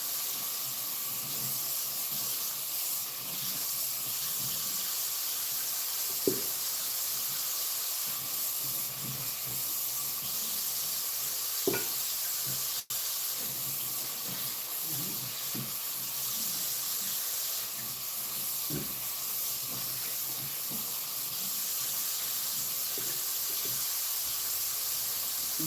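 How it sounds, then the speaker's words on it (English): Tap water runs in a steady hiss while chicken drumsticks are rinsed off before going into a big pot, with occasional soft knocks and splashes and no talking. "as I'm rinsing them off, I'm going to put them in the pot."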